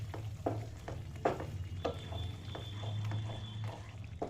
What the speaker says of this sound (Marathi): तर बघू शकता छान असं आपलं ग्रेव्ही फ्राय झाली आहे व्यवस्थित, त्याला तेल पण छान असं सुटलं आहे.